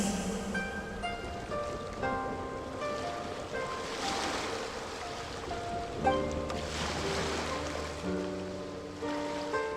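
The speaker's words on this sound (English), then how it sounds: "Go to where you can hear the sound of the waves" Ocean waves wash steadily in the video game Genshin Impact, a soft surf hiss beneath sustained musical tones from the game's score, with no voices.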